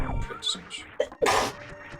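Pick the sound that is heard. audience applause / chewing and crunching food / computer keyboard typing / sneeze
sneeze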